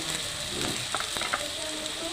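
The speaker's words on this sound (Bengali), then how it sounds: "কুচ্ছেটা লাল লাল করে ভাজা হয়ে গেছে" Salted bitter gourd pieces fry in a pan with a steady, close sizzling hiss and a few soft stirring clicks and scrapes, with no voices.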